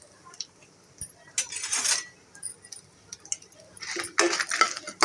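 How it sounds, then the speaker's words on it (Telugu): Tempering seeds and dry red chillies stir-fried in hot oil in a pan, with a utensil clinking and scraping against the metal in short, irregular bursts, close and moderately loud. "చక్కగా అటు ఇటు తిప్పుకుంటూ ఫ్రై చేసుకోవాలి"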